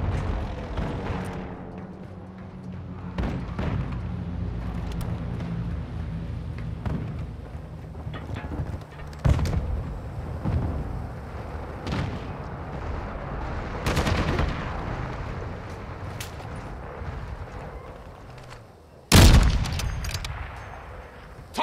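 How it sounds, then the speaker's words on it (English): Friendly cruise missile strikes in Call of Duty: Modern Warfare II on Rohen Oilfields: repeated heavy booms and explosions among scattered gunfire, with one especially loud close blast near the end. "Friendly cruise missile approaching target"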